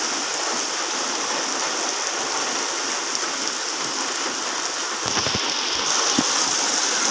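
Steady rain pours down outdoors in a continuous even hiss, close and loud, with a few brief knocks and thumps near the end and no talking.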